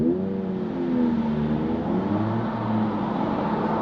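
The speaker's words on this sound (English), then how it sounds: "That was an EP3 Type R" A Honda Civic EP3 Type R revving nearby, a steady engine drone that climbs and dips in pitch as the revs change, heard alone with no talking.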